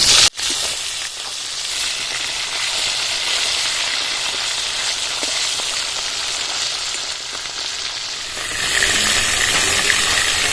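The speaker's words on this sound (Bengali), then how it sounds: "মাছগুলো এক পিট ভাজা হয়ে গেছে আমি আর এক পিঠ উল্টিয়ে দেবো" Bhola fish frying in hot oil after being turned, a dense, continuous close-up sizzle and crackle after a brief clunk at the start, brightening toward the end, with no talking.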